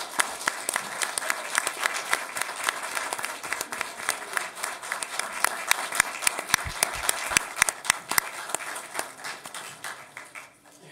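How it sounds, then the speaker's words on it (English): City council meeting audience applauding children standing at the front, a dense, steady burst of clapping from many people lasting about ten seconds, close and fairly loud throughout. "Why don't you have them stand so we can applaud for them?"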